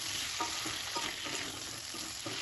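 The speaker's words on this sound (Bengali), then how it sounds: "ভালোভাবে সব কিছু তেলে একটু ভেজে নেব" Potatoes and pumpkin stalks, seasoned with salt and turmeric, fry in oil with a soft, even sizzle broken by repeated stirring scrapes, quiet and close, with no talking.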